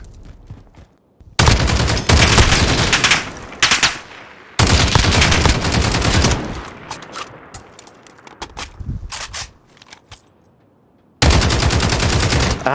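Automatic gunfire in Call of Duty Modern Warfare Gun Game, loud rapid bursts of shots in several long strings separated by brief quieter gaps with faint movement sounds.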